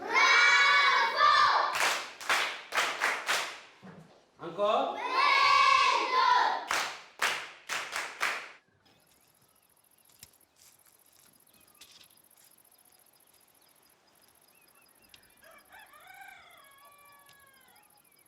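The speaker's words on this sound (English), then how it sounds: "Très bien, on applaudit." A group of children clapping enthusiastically in two loud bursts of rapid applause, followed by quieter outdoor ambience with insect chirping and a brief spoken word.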